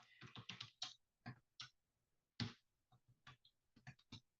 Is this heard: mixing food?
no